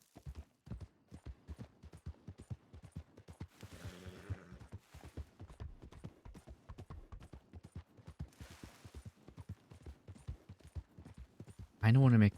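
Horse hooves clip-clop in steady, evenly spaced beats in Red Dead Redemption 2 roleplay, heard clearly and moderately close throughout. A brief loud burst of noise cuts in at the very end.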